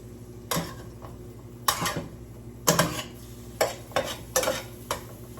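Breakfast food being flipped in a pan, with several short scraping clatters of a spatula against the pan over a low sizzle, spaced about a second apart, close by.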